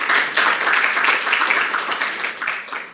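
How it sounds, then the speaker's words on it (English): An audience applauds during a Netanyahu speech, a full burst of clapping from many hands that stays loud and even for a few seconds, then thins slightly toward the end. "you can clap"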